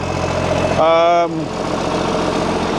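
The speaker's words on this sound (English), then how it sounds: "still got that blowing exhaust" Tractor engine idling with a blowing exhaust from a hole in the cross pipe to the turbo, a steady low throbbing rumble interrupted by a brief rising whine.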